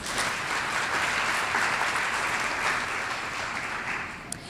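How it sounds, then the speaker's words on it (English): An audience at an entertainment show in Walton County gives a big, full round of applause, thick and continuous, holding steady throughout before easing at the very end. "Let's give Callan and the Walton County School District a big round of applause."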